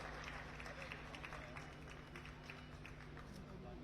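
Audience applause at a ceremony: dense, steady clapping from a large crowd, held at an even level throughout.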